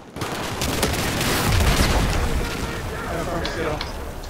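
Battlefield 4 combat during a close-quarters match in Operation Locker, with a dense wash of gunfire and booming explosions, continuous and loud, and players talking over it.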